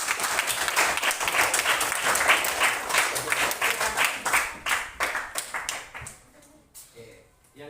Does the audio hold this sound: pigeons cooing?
no